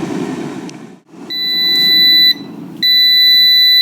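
An air fryer timer sounds at the end of cooking with two long, loud electronic beeps separated by a short gap, over the steady whir of the fryer's fan.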